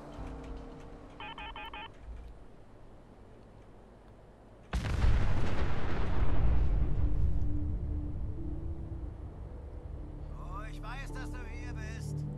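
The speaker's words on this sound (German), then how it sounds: "So, pass auf, wir schießen auf den Fusionskern." A loud explosion bursts from a fusion core shot in Fallout 4, a sudden broadband boom that rolls on and slowly decays over several seconds, with faint beeping tones earlier and speech heard around it.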